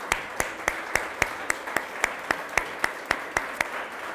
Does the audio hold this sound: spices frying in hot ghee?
no